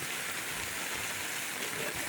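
Floodwater rushes steadily after heavy rain, a dense, constant hiss of flowing water close by, with no voices.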